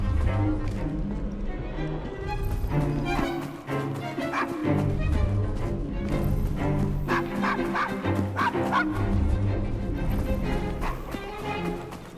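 A dog barks repeatedly in Assassin's Creed Syndicate, sharp yips and bow-wows close by over a busy street scene with background music and clip-clopping, with no one speaking during the barks.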